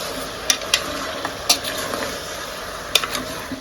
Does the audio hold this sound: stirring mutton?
yes